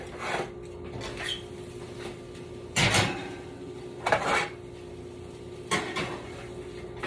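Baking pans of red peppers and Brussels sprouts go into an oven: metal pans clatter and scrape against racks in three or four distinct clanks, with the oven door moving in between, close and moderately loud.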